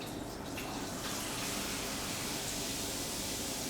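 Water pouring steadily from a solar-heated integrated shower column, a constant close hiss with no pauses and no voices.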